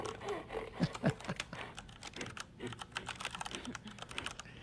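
Someone types on a computer keyboard in a steady, quick patter of light key clicks that runs through the whole stretch at moderate volume.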